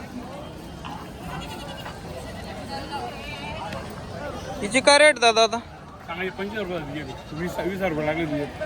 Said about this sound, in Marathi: ही बघू शकता मित्रांनो तुम्ही शेळी